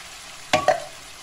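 Mushrooms frying in a pan with salt, stirred once: a faint steady sizzle under a quick pair of close utensil clicks or scrapes, otherwise quiet.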